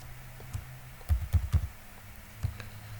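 Computer keyboard keys being typed on in a few short clustered bursts of clicks, close and moderately loud over low room hum, with brief pauses between groups of keystrokes.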